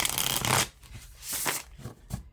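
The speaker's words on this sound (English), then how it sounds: "just give this a quick shuffle" Tarot cards riffle and flutter in a quick, close shuffle, followed by a few soft taps and slides as the deck is squared.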